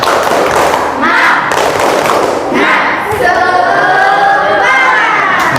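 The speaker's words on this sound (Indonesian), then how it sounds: "Tepuk semangat." A school class does a rhythmic clapping chant during a classroom ice-breaker, with group thumps and claps in a beat and children's voices chanting loudly together, close and lively.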